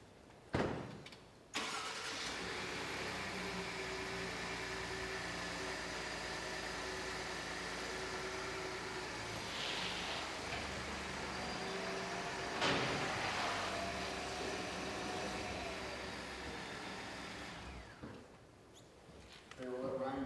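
A 2015 Ford F-150 4x4 pickup in a trailering test starts up and runs at a steady, moderately loud engine drone for most of the run, with brief clunks at the start and the sound dropping away near the end.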